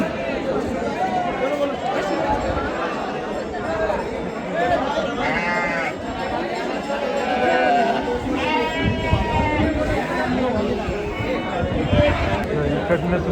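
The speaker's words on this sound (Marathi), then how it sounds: "पाहू शकाल मेंढ्यांचा भरपूर माल आहे." Many sheep bleat repeatedly across a busy livestock market in Maharashtra, calls overlapping near and far beneath steady crowd chatter and people talking throughout.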